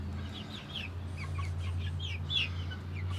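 Chickens cluck and chirp softly over and over in a backyard coop and run, small bursts of fowl calls scattered across a steady low outdoor hum.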